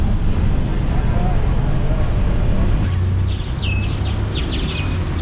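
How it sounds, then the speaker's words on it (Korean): Crows caw in Lima, Peru amid loud city and traffic noise, their harsh calls rising clearly in the second half of the clip. "까마귀 천국."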